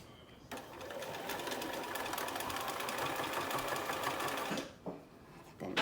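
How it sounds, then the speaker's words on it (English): A sewing machine runs steadily for about four seconds, stitching back and forth over fabric pleats on a simple pleated mask, then stops briefly and restarts. "I'm going to run right over the top stitching that I already did once, and I'm going to go back and forth over these pleats"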